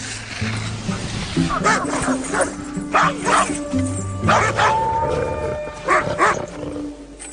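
Sled dogs barking and yipping in repeated bursts, with whines and howls between, several animals close together over an uneven, busy backdrop.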